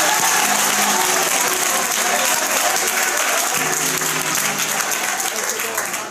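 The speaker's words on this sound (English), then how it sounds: "Clap your hands and shout to the Lord with a voice of triumph." Congregation clapping hands during a lively praise song at a C.O.G.I.C. church service, a dense, steady wash of applause with crowd noise and music running underneath throughout.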